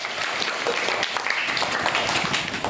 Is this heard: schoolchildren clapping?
yes